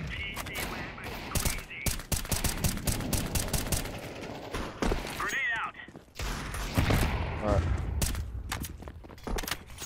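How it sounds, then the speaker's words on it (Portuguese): Counter-Strike 2 firefight with rapid bursts of rifle fire and single sharp shots cracking between quieter stretches, broken by footsteps and mechanical clicks, while a player talks over the action. "Vamos trocar tiro nesse rato agora, cara."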